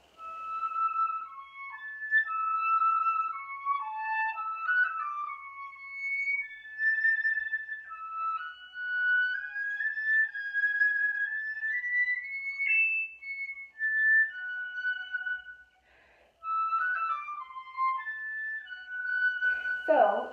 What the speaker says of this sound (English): So the piccolo sounds something like this.